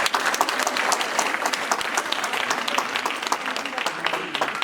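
Dense audience applause fills a conference hall, a steady close wash of many hands clapping throughout without a break.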